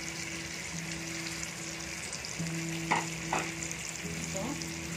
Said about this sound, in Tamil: நான் ஃபஸ்ட்டு வந்து வெங்காயம் போடுறேன்.